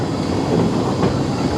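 A Shay steam locomotive pulls a train over a three-foot narrow gauge railway on sharp turns at a steam museum, giving a steady rumbling roll of wheels and cars with faint clicking, no talk.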